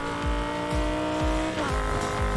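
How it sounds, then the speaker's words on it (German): Hard braking in the racing game Need for Speed Heat: a loud engine drone drops in pitch while a steady tire squeal runs through the short burst, alone and close, with no talk. "Da möchte ich dann doch mal auf die Bremse treten."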